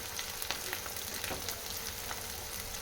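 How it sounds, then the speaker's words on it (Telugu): Cashews and almonds fry in hot oil with a steady crackling sizzle and small irregular pops, heard close and alone without any talking. "కాజు బాదం కొద్దిగా ఫ్రై చేసుకోవాలి"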